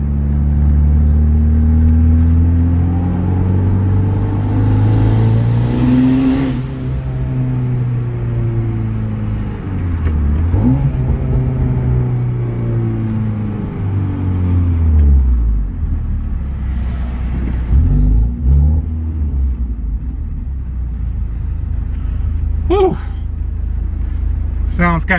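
Heavily modified Hyundai Genesis Coupe 2.0 Theta four-cylinder on its first test drive, heard from inside as a loud, low droning engine rising and falling through gear changes, with someone talking over it.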